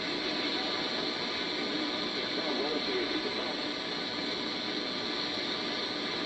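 Steady hiss of AM band noise on a Kenwood TS-850S ham radio receiver with noise blanker 2 engaged, chopped into a fast, even mechanical ticking that runs continuously and loudly.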